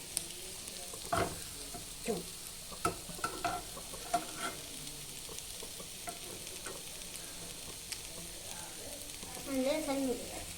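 An omelet with onion and prawn frying in a home kitchen pan gives a faint, steady sizzle with occasional spatula taps and scrapes, close by, with no talk over it.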